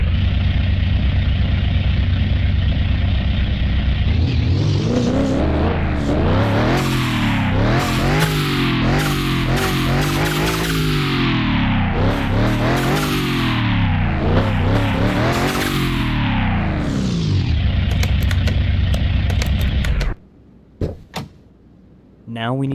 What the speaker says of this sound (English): Let's listen to the engine roar a little.